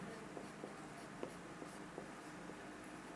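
Chalk scratches and taps on a board during a physics lesson on electric dipoles, with short strokes repeating in a quick irregular rhythm, faint and close in a quiet room.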